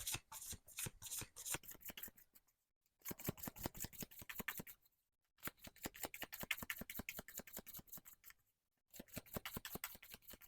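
Tarot cards shuffled by hand during a reading, heard as quick bursts of crisp riffling and flicking, close and fairly quiet, in four runs separated by short pauses.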